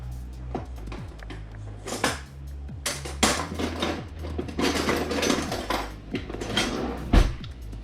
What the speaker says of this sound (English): Then I just take and I stir it up.